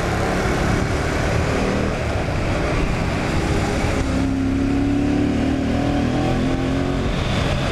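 Yamaha MT-07 motorcycle with its airbox snorkel removed, the engine droning loudly and continuously as it rides and accelerates, rising in pitch toward the end, with heavy wind rush throughout.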